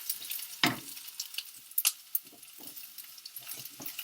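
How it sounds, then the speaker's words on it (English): Freshly chopped onions stirred in a pan, quiet sizzle broken by a few sharp scraping and clinking stirs, close and alone without talk. "This is freshly chopped onions in there, and mix it."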